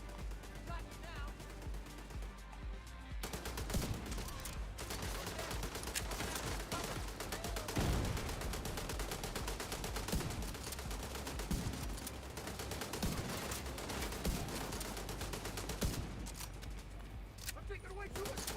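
Gunfire in the shooter The Division 2, dense overlapping bursts and volleys of automatic fire running throughout, mixed with other combat noise.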